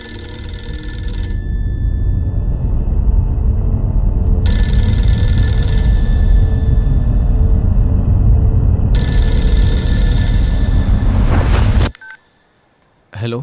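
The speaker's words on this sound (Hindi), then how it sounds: "फोन क्यों नहीं उठाता?" A telephone rings steadily in repeated bursts over a loud, busy background, then cuts off abruptly near the end.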